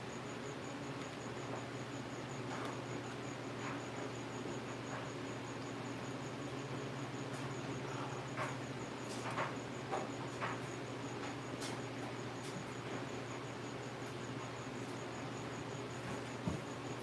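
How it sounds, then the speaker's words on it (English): Crickets, some with wings, chirp in fast repeated pulses from somewhere indoors nearby, under a steady electrical hum, with a few faint ticks and knocks. "I got crickets, apparently some of them have wings and they're just beep beep beep beep"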